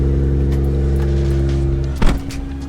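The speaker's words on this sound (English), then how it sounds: "Oh, I hear turbos." A Toyota Soarer with a turbocharged 1JZ engine runs on a dyno, its loud steady engine drone heard up close. Near the end the note sharpens into a brief rev or shift with a rush of turbo noise.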